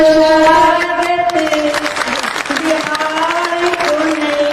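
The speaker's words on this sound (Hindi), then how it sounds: "जोरदार ताली से" An audience claps to welcome a speaker at a state-level Jan Suraaj workshop in Bapu Sabhagar hall, Patna. Scattered applause runs beneath a loud voice talking over a sound system throughout.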